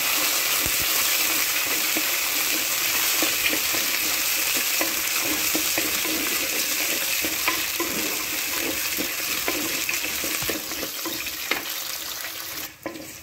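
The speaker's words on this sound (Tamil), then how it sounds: "இப்போ இதை நல்லா வதக்கிக்கிங்க." Garlic and curry leaves sauté in a pan for a bitter gourd gravy, giving a steady, loud sizzling hiss throughout with scattered crackles and occasional stirring clicks, no voices.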